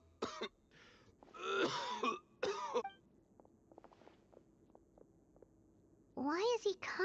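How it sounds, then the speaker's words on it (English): Several harsh, raspy coughs and throat-clearing bursts from a Genshin Impact game character, in uneven clusters separated by quiet stretches with faint clicks, ending in another loud fit of coughing. "Why is he coughing so much?"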